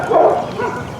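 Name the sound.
dogs barking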